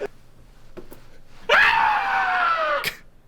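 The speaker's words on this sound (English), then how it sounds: "I think I screamed before I got pulled." A person lets out a single loud, sustained scream lasting over a second, preceded by quieter breaths and small sounds, with no talking over it.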